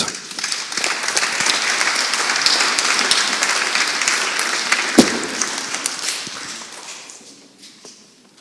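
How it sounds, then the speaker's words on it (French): An audience at an Armistice commemoration claps steadily in dense, close applause, with a sharp louder clap midway, then the clapping thins and fades away. "Sous vos applaudissements, Madame Chantal Kestelot."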